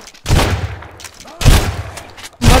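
Gunfire in the survival video game Sunkenland: three loud, booming gunshots spaced about a second apart, each a close, sharp blast with a ringing tail.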